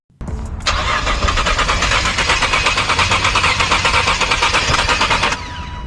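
A 2018 Nissan GT-R with a turbo intake pipe problem cranks on its starter, giving a loud, steady, rapid mechanical whirring chug that runs for about five seconds without catching, then cuts off.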